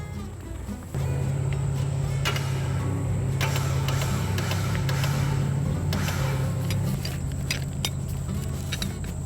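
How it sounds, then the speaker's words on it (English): A Jeep winch hauls its recovery line under tension while stuck off-road, giving a loud steady motor drone with a low hum that starts abruptly after a second and runs continuously, with scattered clicks and rattles over it. "gonna go put a little tension on the winch, that way the line pulls up"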